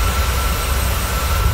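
Boeing 737-800 in flight in a flight simulator game, a steady loud broadband engine roar with a deep low rumble and a faint constant whine, unbroken throughout.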